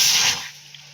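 Water pours into a pot for cooking several packets of Maggi noodles, a loud, close, hissing splash for about half a second that then stops abruptly, leaving faint room quiet.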